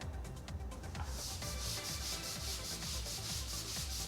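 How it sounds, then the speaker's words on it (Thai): A stiff-bristled brush scrubs a rough concrete floor coated with multi-purpose cleaner, giving quick rhythmic rasping strokes that are close and steady, with no talking. "ก็สามารถใช้แปลงลักษณะนี้นะครับ แปลงที่ขนแข็งนิดนึงนะครับ เพราะว่าเป็น พื้นปูนที่ค่อนข้างหยาบนะครับ"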